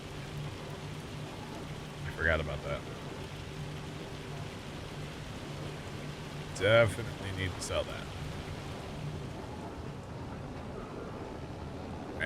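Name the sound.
rain and hail, from video game Farming Simulator 25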